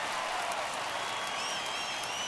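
Baseball crowd at an ALDS Game 3 between the Yankees and Indians rising and cheering, a steady broad roar with scattered applause filling the whole moment, fairly distant and with no distinct voices.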